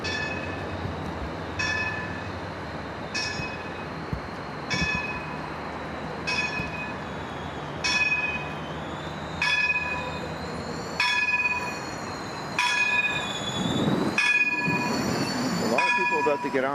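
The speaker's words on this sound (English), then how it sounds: "Now this is the southbound train." A southbound O-Train pulls into Confederation station amid a crowd, its wheels letting out a series of high, ringing squeals at steady intervals that grow louder and denser as it nears, over a low rolling rumble.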